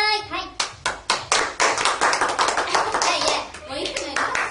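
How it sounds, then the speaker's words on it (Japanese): Studio audience applause on a Japanese idol radio show, a dense burst of many hands clapping close by, starting with a few rhythmic claps and then swelling into continuous applause before tapering off. "もういつもより拍手が多いですね"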